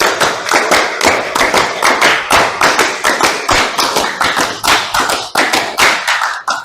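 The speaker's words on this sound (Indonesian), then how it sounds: "Tepuk tangan 5 kali." Classroom of pupils clapping in a rhythmic counted pattern, repeated bursts of sharp hand claps in steady groups, loud and close, with no speech over them.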